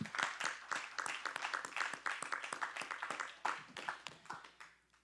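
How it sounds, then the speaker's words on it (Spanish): Congregation clapping during a church service, a loose burst of hand claps with a lively, uneven rhythm that fades out toward the end, fairly quiet and heard alone. "Yo creo que ustedes se deberían de darle un aplauso en este día de hoy."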